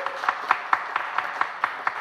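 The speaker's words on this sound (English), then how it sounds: "let's give a round of applause to our three panelists" Sparse audience clapping after a panel discussion, a few distinct hand claps repeating in a steady rhythm, close and fairly loud, with no voices.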